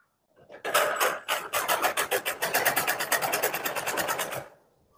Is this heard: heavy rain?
no